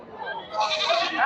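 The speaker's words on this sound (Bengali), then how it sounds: "দেখেন হাজার হাজার সব ছাগল।" Goats bleat repeatedly at a busy livestock market with thousands of goats for sale, their wavering cries overlapping loudly and close by while someone talks over them.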